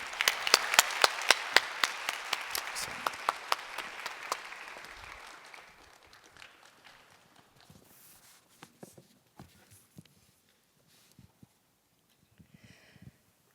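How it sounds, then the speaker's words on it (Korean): A church congregation at a Christmas Sunday service applauds, starting with a burst of strong rhythmic clapping that thins out after a few seconds into scattered claps, shuffling and quiet footsteps. "우리 박수로 맞이해 주시길 바랍니다."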